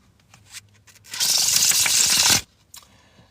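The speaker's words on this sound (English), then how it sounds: "That way I can cut this deck." A deck of tarot cards is cut and shuffled, giving one dense papery riffle of about a second after a few light taps, close and fairly loud.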